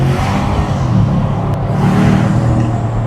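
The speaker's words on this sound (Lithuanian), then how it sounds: "Galime išgirsti tą V8 garsą." Porsche Cayenne V8 from 2006 with air suspension, its engine revving in a steady, loud, continuous roar with deep low rumble, no voices over it.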